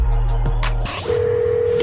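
Telephone dialing to place a call on a radio show: rapid keypad tones and a line click followed by a steady dial-like tone, loud and alone without speech.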